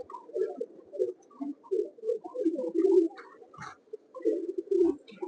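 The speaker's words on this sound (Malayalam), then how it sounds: "ഇതൊക്കെയാണ് പ്രാവ്." Pigeons coo in a loft in Palakkad: close, soft, repeated throaty calls that overlap in uneven bursts, with a few short flutters between them.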